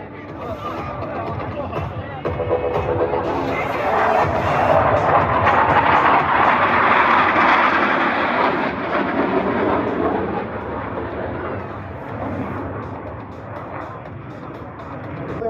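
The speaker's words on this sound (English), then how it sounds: "Approaching inverted from the left and right, they will roll their aircraft 360 degrees crossing over center point." US Navy Blue Angels F-18 jets roar overhead during an inverted crossing roll at an air show, the engine noise swelling loud and then fading over several seconds amid crowd and announcer sound.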